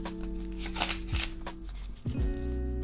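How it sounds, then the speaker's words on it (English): Deck of playing cards riffled and bridged by hand, a few crisp bursts of flicking card edges close up over a steady musical backing. "I'm gonna go ahead and give these a shuffle real quick."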